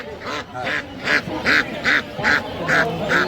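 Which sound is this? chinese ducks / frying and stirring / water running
chinese ducks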